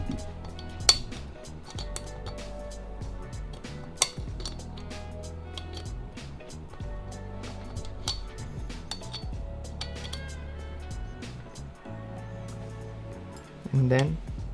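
Small metal parts of a Tanfoglio pistol, the sear and sear housing, clink and tap sharply and intermittently during reassembly beneath a talking voice.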